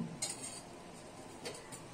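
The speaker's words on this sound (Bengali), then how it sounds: "ভালো করে মিশিয়ে নিচ্ছি দইটাকে।" Spoon stirring yogurt into fish rezala in a pan, giving faint scraping and a few light clinks of metal against the pan over steady low background noise.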